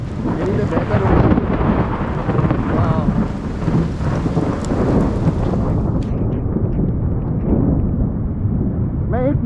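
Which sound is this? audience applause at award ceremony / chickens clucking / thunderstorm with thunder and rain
thunderstorm with thunder and rain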